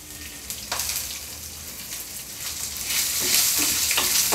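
Coconut, cumin, pepper, poppy seeds, fennel, curry leaves and green chili sauté in a pan for a prawn gravy, a steady close sizzle with occasional stirring scrapes, growing louder toward the end.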